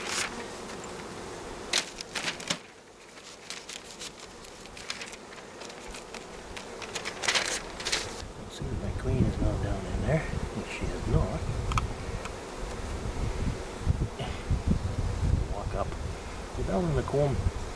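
Bees buzz around a beehive in dense overlapping drones, close by, with sharp handling clatters early on. The buzzing swells louder in the second half.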